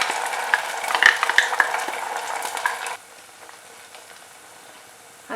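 Ground coconut paste sautéing in a pan for moru kuzhambu, a steady close sizzle with stirring scrapes and a few sharp utensil clicks, then dropping to a faint simmer halfway through.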